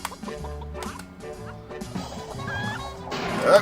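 A chicken clucks amid busy game music and sound effects in the video game Ed, Edd n Eddy: The Mis-Edventures, the bird's calls partly masked by the tuneful backdrop.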